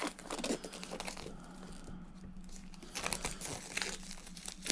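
Cardboard packaging of a Google Nest Cam battery camera box being pulled open along a precut slit, with steady crinkling, scraping and tearing rustles close by, swelling in short bursts.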